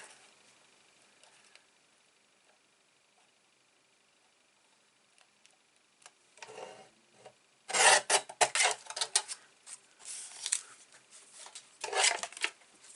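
Paper being trimmed for an accordion-style mini album, a faint start and then clusters of close, sharp rasping cuts in quick bursts.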